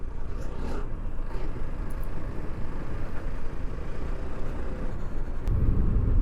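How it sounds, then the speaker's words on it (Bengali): Steady road traffic of auto-rickshaws, motorbikes and vans on a village road, a continuous engine rumble and tyre noise that swells louder near the end as a vehicle passes close by. "এই রোডে আবার ভালোই গাড়ি ঘোড়া চলতেছে, অটো, বাইক, ভ্যান"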